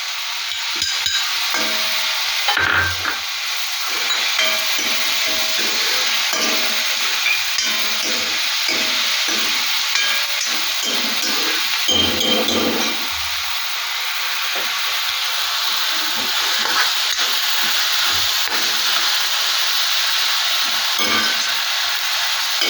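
Fresh clams with green chillies sizzle and sauté in a pan for a spicy clam roast, giving a loud, continuous frying hiss with repeated scraping stirs close by.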